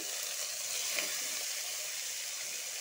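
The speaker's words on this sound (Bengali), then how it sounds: "আলুর সাথে মোচাটা ভালো করে ফ্রাই করব" Boiled banana flower frying with potatoes in a pan makes a steady, dense sizzle, close and fairly loud, lasting the whole stretch without a break and with no voices over it.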